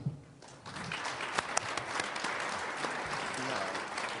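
Crowd at a basketball event applauds, a dense wash of clapping with a few sharper claps standing out, while a voice speaks over it.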